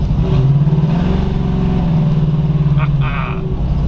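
A 1937 Ford two-door slantback street rod with a 502 big block engine and 700R4 transmission driving, its deep loud engine rumble rising and settling close by.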